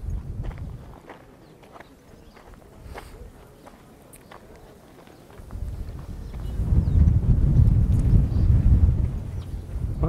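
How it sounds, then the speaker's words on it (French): Low, rumbling gusts of wind buffeting a microphone fitted with a windscreen at Abu Simbel, quieter at first then swelling strongly in the second half, with faint scattered ticks and footsteps. "il y a un peu de vent, ce sera l'occasion de tester mon nouveau micro avec la bonnette anti-vent"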